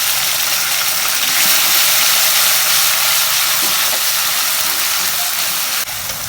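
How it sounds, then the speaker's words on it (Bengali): Ginger and garlic paste fries in hot oil in a pan for a Bangladeshi fish and pointed gourd dish, a loud, steady, close hiss and sizzle that continues without pause and without talk. "এখন আদা রসুন বাটা দিচ্ছি"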